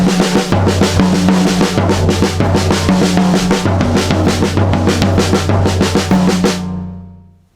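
Full drum kit playing an accented triplet exercise, a steady busy rhythm of dense hits with sustained low drum tones throughout, loud and close, ringing out at the end.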